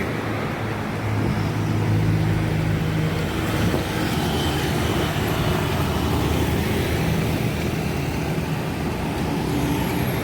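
Light road traffic on Jalan Kasir Pai in late afternoon hums steadily, with cars and motorbikes passing in a continuous, moderately loud wash of engine and tyre noise.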